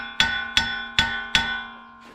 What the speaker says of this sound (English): I'm going to tap the wheel bearing itself with a hammer first.